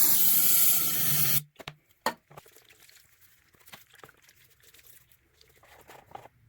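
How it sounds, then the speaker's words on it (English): Brake cleaner is sprayed into a Shindaiwa T242 weed trimmer to flush out degreaser, a loud steady hiss lasting over a second before cutting off, followed by faint clicks and drips. "we'll get some brake clean in there. Clean out all that degreaser"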